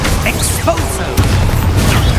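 An Expulso explosion spell in Hogwarts Legacy, a loud boom with a sharp impact partway through and rumbling debris, with a voice shouting over the combat noise.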